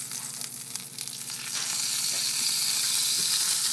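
Ham fries in a pot for a Dominican guandules dish, a loud, close, steady sizzle that swells and stays strong, with a few faint stirring knocks early on.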